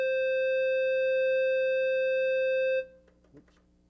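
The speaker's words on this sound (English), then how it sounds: "we can show you, for example, what a clarinet sounds like" A synthesizer keyboard set to a clarinet voice holds one steady, reedy note for almost three seconds, then cuts off, leaving a few faint clicks and rustles.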